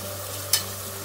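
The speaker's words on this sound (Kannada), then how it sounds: "ಇದು ಕೂಡ ಆಯಿಲಲ್ಲಿ ಸ್ವಲ್ಪ ಫ್ರೈ ಆಗಿ." Cut beans frying in oil in a pan for vegetable pulao with fenugreek and field beans, a steady low sizzle with one brief clattering stir partway through, no talking.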